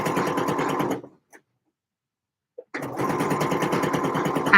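A sewing machine stitches a line of seams in two close, steady runs with a fast even needle rhythm, broken by a gap of near silence of about two seconds between them.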